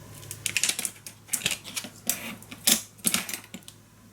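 Paper being cut for a handmade scrapbook mini album, heard as a run of crisp, close snips and rustles in irregular bursts, with a steady low hum underneath.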